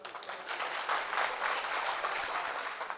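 Steady, dense applause from an audience at a Hindi poetry recital, holding a constant level throughout with no voices over it.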